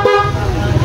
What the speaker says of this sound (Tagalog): Tara natin magbusina mga sir.